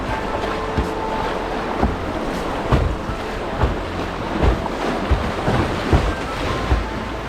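Rushing water of Salt River rapids from a boat in Arizona, a steady loud wash with wind buffeting the microphone and occasional splashing thumps.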